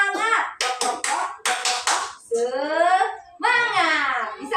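Bursts of rhythmic hand clapping from a 'tepuk semangat' clap chant, several quick claps in a row, with a voice chanting and talking close up between and after them.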